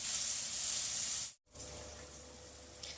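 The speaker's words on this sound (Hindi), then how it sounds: "अब इन सारे मसालों की अच्छे तरीके से भुनाई करेंगे।" Spices roasting in a hot pan for an Indian dish, a steady loud sizzle and hiss that cuts out abruptly, then returns as a quieter sizzle.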